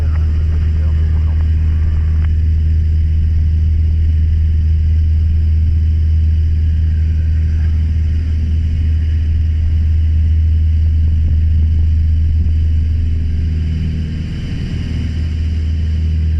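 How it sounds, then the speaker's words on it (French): The engine of a Cap 10 aerobatic plane drones loud and steady in the cockpit as it throttles up for takeoff, a continuous low rumble, with an instructor speaking over it. "Allez, tu mets les gaz, ça va partir à gauche, donc tu mets un peu de pied à droite"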